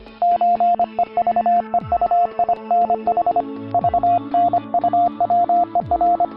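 Steady electronic beeps of Morse code spelling out letters, with clear on-off tone bursts in short and long groupings, loud and alone over a faint musical backing with occasional low swooping notes.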